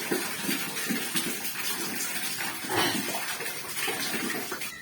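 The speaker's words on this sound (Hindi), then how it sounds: "अब मैं कपड़ा धो रही हूँ" Clothes are washed by hand in water in a village home, with continuous splashing, sloshing and scrubbing at close range, steady throughout with a brief louder surge midway.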